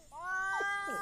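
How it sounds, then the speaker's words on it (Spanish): A cat meows once in a video game, a drawn-out rising and falling cry with a second, shorter meow at the end, heard clearly up close. "Ay, la gata."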